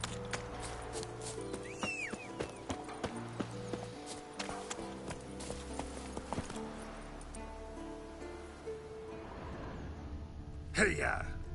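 Roach the horse running in The Witcher 3, rhythmic hoofbeats under game music with someone talking over them, ending in a loud burst.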